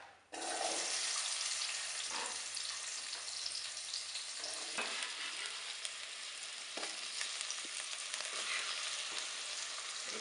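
White onion for an oxtail broth sizzles loudly in a pot after being dropped in, a bright continuous hiss with occasional scraping stirs, close and steady with no talk.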